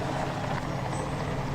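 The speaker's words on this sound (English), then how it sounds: "a second helicopter moves in for Gus, piloted by George Cox" Helicopter hovering low over ocean water during the Liberty Bell 7 spacecraft recovery, a steady loud rotor and engine roar with broadband wash, constant throughout with no voices.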